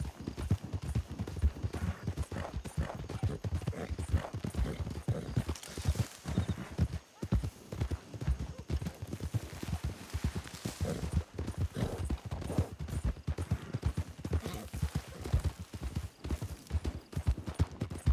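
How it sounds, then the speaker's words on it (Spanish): Horse hooves galloping in Red Dead, a fast, steady, continuous clip-clop rhythm that stays loud and close throughout. "Que ya no puedo frenar el caballo."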